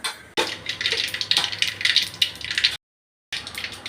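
Mustard seeds hit hot cooking oil in a pan and crackle in rapid, bright pops and spits for a few seconds, broken by a short silent cut before the sputtering resumes.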